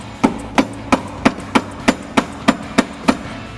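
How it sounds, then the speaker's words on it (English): A hammer taps a billet lower control arm into place on a 2005-2014 Ford Mustang, giving ten sharp, evenly spaced metallic knocks at a steady rhythm, close and clear, with no talking. "we might need a hammer to get this going"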